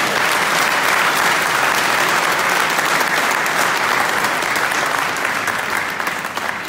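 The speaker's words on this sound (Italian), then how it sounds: "un grande applauso." Loud, steady applause from a large crowd at a political candidate presentation rally in Ivrea, dense clapping held at full level throughout before easing slightly at the very end.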